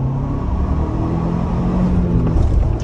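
A 2022 Ford Bronco Badlands pulls hard in second gear on a highway, its engine giving a steady, loud rumbling drone from inside the cabin that builds slightly as it accelerates, with no talking.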